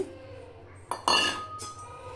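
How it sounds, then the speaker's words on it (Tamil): Dry horse gram tipped into a hot pan for chutney lands in a few short, close rattling clatters that fade quickly. No one speaks. "பேன் சூடானோடனே கொள்ளு போட்டுருங்க."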